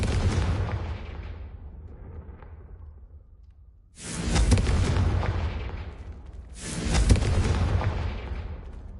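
Incendio and Confringo spell explosions in the Hogwarts Legacy video game: two loud whooshing fiery blasts a few seconds apart, each swelling and decaying, following a quieter rumbling stretch.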